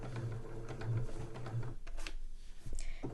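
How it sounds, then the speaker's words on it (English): A sewing machine stitches a 1 cm seam around a Christmas stocking, a close steady mechanical whir that pauses near the end before a short burst resumes. "with a 1 centimetre seam allowance I am going to sew all the way around the perimeter of the stockings"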